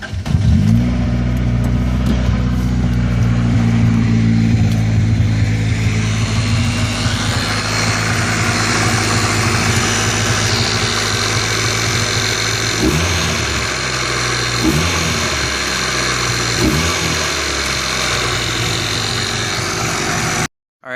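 A car engine with its stock air filter and airbox runs loud and close, idling with a steady rumble, then blips through several short revs before cutting off abruptly.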